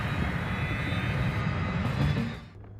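Jet airliner bound for America taking off in a film scene, a steady loud roar of engines that holds evenly then fades away near the end.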